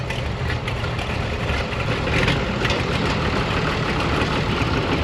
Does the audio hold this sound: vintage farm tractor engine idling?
yes